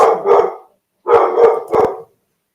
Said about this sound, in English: Crazy dog barking in the background.